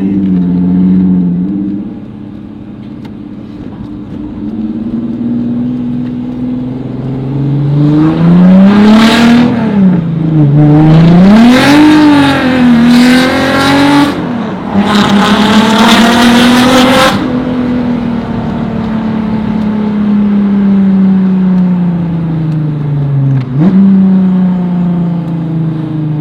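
A small car making 308 wheel horsepower accelerates hard from inside the cabin, its engine climbing in loud, rising revs through repeated surges and gear changes, then settling into a steady, close, heavy drone.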